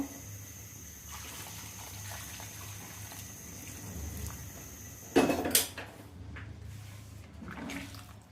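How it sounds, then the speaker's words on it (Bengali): Hot water is poured into a pan of chicken curry: a steady watery trickle and rush, with a brief louder splash burst midway and a quieter pour continuing afterward. "গরম পানি আমি করে রেখেছিলাম"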